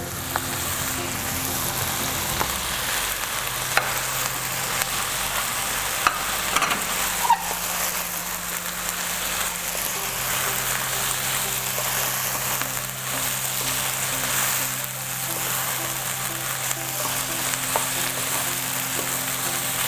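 Rice stir-fried in a pan with spring onions and mushrooms, a continuous dense sizzle with occasional stirring scrapes, close and steady, no talk.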